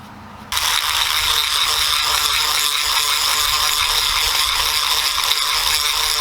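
A drill bit bores and widens a hole for a wooden dowel, a loud continuous whirring grind that starts abruptly after a short pause and holds steady throughout.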